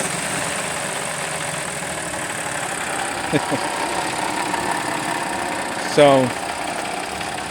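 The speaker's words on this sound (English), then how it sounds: "we are now able to crank the vehicle and get it" A 2012 Audi A7 engine idles steadily after a no-start repair, a low continuous hum throughout with a brief mechanical clunk near the end and a faint word of speech.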